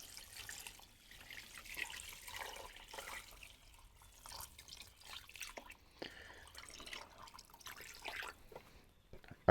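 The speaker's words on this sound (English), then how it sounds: "So we're just using water, and then I'll make up for that. I'm not worried about it. Pour water in." Water is poured into a cast-iron Dutch oven of beans for ham and beans, giving a soft, quiet trickling and splashing with irregular drips and pauses, close by and without talking.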